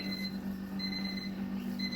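A timer alarm sounds during a beer brewing boil, a steady electronic beeping tone repeating through the whole moment over a low constant hum from the brewing equipment, with no talking.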